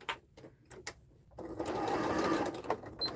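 An electric sewing machine stitches an extra row along twill tape on reusable fabric gift wrap; after a few soft clicks, a steady, quiet mechanical whir starts and runs to the end.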